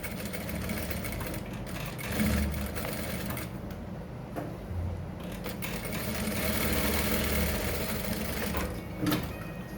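A sewing machine hums steadily while top stitching around a single welt pocket, a continuous low mechanical whir at moderate distance with small bumps in intensity.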